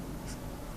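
A pen writing a handwritten probability calculation, a brief soft scratch of strokes close up, heard alone without speech.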